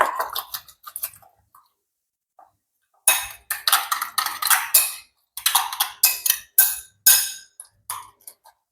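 Mixing food in a bowl for a clay pot rice dish, with bursts of scraping and clinking of a utensil against the bowl in quick repeated strokes after a quieter start, close and fairly loud.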